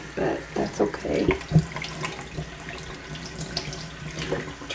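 Hot water runs from a tap on a cold morning, a moderate splashing stream with a few louder bursts at the start before settling into a steady, fainter flow.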